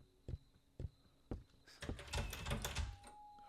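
Three heavy, evenly spaced door thunks in the horror game We Harvest Shadows, followed by a louder, busier rush of clattering noise that swells and lingers before a thin tone takes over.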